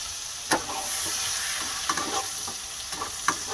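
Boiled potatoes with turmeric frying in oil in a pan, a close steady sizzle broken by several sharp spatula scrapes and stirring knocks, with no voices.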